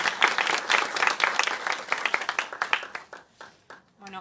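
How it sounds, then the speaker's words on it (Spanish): Audience applause for a film director at a Paraguayan short-film premiere, a dense burst of clapping that gradually thins into scattered claps and fades, with voices murmuring under it. "un aplauso para él, por favor"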